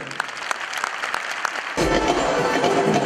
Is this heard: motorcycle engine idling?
no